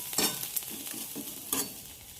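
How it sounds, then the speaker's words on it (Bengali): Rice and banana flower fry in a pan as a utensil stirs them. Several close scraping strokes sound over a steady sizzle. "দিয়ে আবার কিছুক্ষণ একটু নাড়াচাড়া করে নিলাম।"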